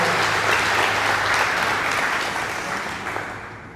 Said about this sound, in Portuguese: dá uma linda salva de palmas a Jesus